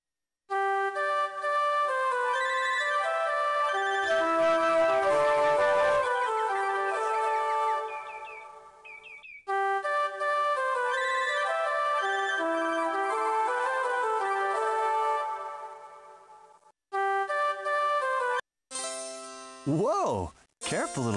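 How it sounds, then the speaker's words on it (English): Flute-like melodic game music from the Barbie as Sleeping Beauty video game, steady tuneful phrases with short pauses between sections, ending in a few quick rising and falling sweeps. "Click on Rose to hear her play some beautiful music. Click on the flute to play along"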